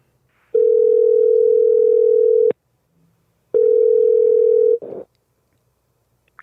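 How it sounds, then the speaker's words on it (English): A telephone call goes out: two long, loud, steady ringing tones, each about two seconds with a pause between, then a brief click and rustle as the line is picked up. Nobody speaks. "we're going to give her a call right now."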